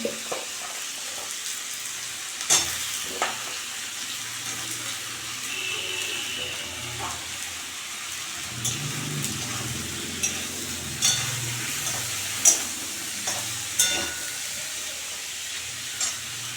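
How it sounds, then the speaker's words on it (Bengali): Shrimp, eggplant and potato pieces fry together in a pan, with a low continuous sizzle and hiss. Occasional sharp clicks and scrapes come from stirring, and the sound is moderately quiet. "চিংড়ি মাছের সঙ্গে সঙ্গে বেগুন আলুগুলোও দিয়ে দিলাম ভাজা হয়ে যাবে একবারে"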